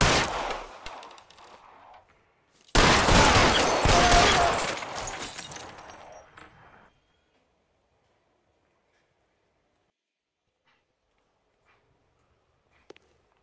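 A gunfire shootout in LA Noire opens with a burst of shots. A brief pause follows, then a loud, dense volley of overlapping gunfire that tapers off over a few seconds into near silence broken by a faint click.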